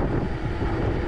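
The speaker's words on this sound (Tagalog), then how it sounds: "Yung hangin malakas." Strong wind buffeting a rider on an expressway at speed, a dense continuous roar with heavy low-end rumble, loud and unbroken with no voices.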